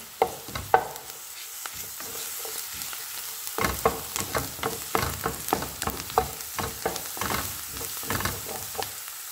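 Garlic paste sautéing in a hot pan for chicken with broccoli, a close, steady sizzle with repeated scraping stirs of a spatula against the pan.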